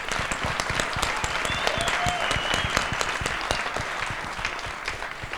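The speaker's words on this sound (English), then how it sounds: "Let's clap hands for him." Lively audience applause with sharp, distinct hand claps over a continuous bed of clapping, fairly close and loud throughout, with faint voices underneath.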